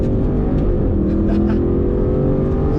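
An Aston Martin Vantage N430 engine revs hard and steadily toward 7000 rpm, a loud, close, continuous sporty drone with no talking over it.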